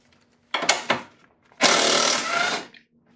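A power tool loosening engine bolts on a 2008 Acura MDX during cylinder head removal: a short double burst, a pause, then a longer loud whirring run up close.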